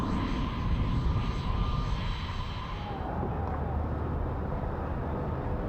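An A-10 jet aircraft passes at an air show, a loud, broad engine roar that fades from a bright rush into a lower, duller rumble partway through, with no talk.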